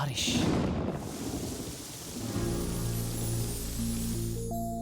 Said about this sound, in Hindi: बारिश जोरों से हो रही थी